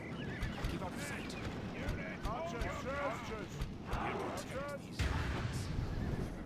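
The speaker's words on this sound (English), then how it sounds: "Alright, everybody's firing." Battle din in Third Age Total War as archers loose volleys, with horses whinnying and clattering amid dense, continuous combat noise and steady thumps throughout; someone talks over the action.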